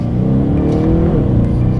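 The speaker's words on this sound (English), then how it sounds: "Let's downshift, and we're in second gear. Let's test out the paddle shifters." A BMW 750i luxury sedan engine revs hard as paddle shifters drop it into second gear, a loud, close, continuous roar with a rising growl throughout.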